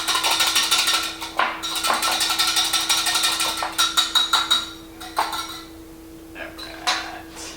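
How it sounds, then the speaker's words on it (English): A whisk beats a spicy mayonnaise sauce in a bowl, with rapid, close metallic clinking and scraping strokes that run steadily and then thin out into a few separate taps. "So you just want to whisk this really good."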